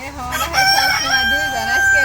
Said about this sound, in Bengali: আজকে একা মুরগির শব্দ।